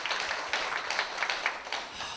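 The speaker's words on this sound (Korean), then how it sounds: "저렇게 40년을 사신 분이라니까 정말 박수 한번 쳐드려야 될 것 같습니다" Audience applause at a live policy talk event in Korea, a steady patter of many hands clapping with a few louder claps, moderately loud and without talk over it.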